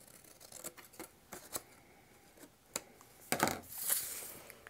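Scissors snip paper for a small handmade gift box, a series of quiet, crisp cuts in an uneven rhythm that build to a louder slicing stroke near the end, close by with no talking.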